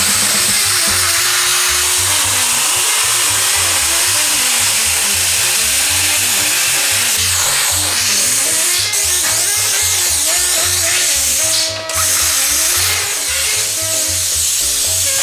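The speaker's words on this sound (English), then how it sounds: "I just happen to have a plasma cutter. I like plasma cutters." A plasma cutter slices through sheet metal for a 1941 Willys coupe transmission cover, giving a loud, continuous hiss and buzz that runs steadily throughout, close up and alone.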